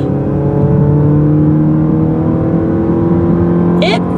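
A 2015 Chrysler 200 engine holds a loud, steady high-rpm drone from inside the cabin, its automatic transmission waiting until about 5,500 RPM to shift.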